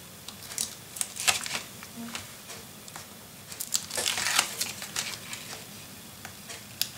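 Tape backing being peeled off for the hinge of a handmade mini album, heard as soft crinkly rustles and tearing bursts that come and go close by, with quiet handling noise between them.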